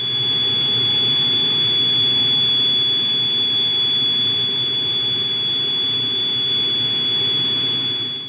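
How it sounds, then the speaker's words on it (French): Paired gas turbine engines coupled through a common reduction gear to an alternator, running on a test bench: a loud, steady jet-like roar with a sustained high whine, continuous and unchanging throughout. "les turbomoteurs sont réunis par deux à un réducteur commun et accouplés à un alternateur qui fournit l'énergie électrique au moteur de traction"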